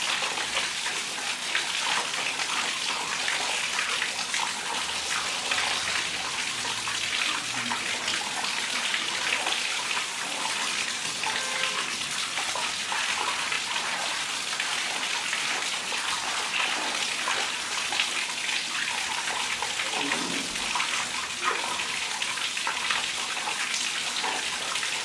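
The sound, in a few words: running water washing newly hatched fish fry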